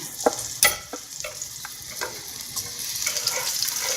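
Garlic sizzles in fresh frying oil in a pan while chicken drumsticks with peppers cook, a steady crackle broken by a few sharp spits and stirring clicks, fairly close.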